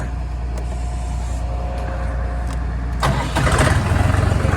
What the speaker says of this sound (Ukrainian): А ми заводимо в той час цього трактора і будемо потихеньку від'їжджати назад